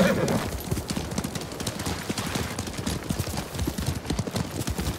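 Several horses' hooves clip-clop in Ghost of Tsushima, a dense, irregular patter of many hoofbeats moving together, fairly close and continuous throughout.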